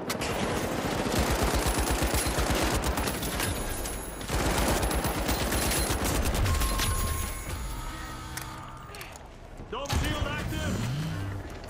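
Gunshots in the shooter game The Finals, with loud rapid automatic fire hammering for several seconds, then a brief pause and more bursts, and voices talking over the action.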